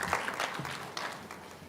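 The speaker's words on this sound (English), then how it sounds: "Let's give Dr. Mathuki a round of applause." A conference audience at a debate in Arusha breaks into brief, dense applause, a crisp wash of many hands clapping at once that fills the room and then holds steady.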